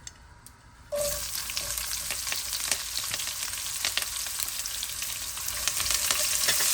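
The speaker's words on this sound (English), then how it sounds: "So now to a pan, I'll add in some oil and we'll let that heat up. To this, I'll add in my onion and my curry leaf." Onion and curry leaf hit hot oil in a pan with a sudden loud sizzle after a quiet second, then a dense, continuous crackling fry that holds steady and builds slightly, with no talking.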